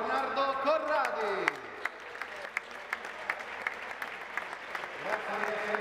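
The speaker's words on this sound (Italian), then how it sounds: "Facciamogli un bel applauso, Bernardo Corradi." Audience applause for former Lazio footballer Bernardo Corradi at a futsal event, a steady patter of clapping from a crowd with a host's voice speaking over it at the start.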